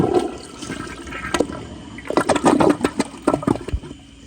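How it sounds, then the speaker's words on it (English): A close-up Kohler Highline Class 5 toilet flushing, with a loud rushing swirl of water that builds into gurgling, splashing surges toward the end. "now I'm gonna go ahead and do a close-up flush"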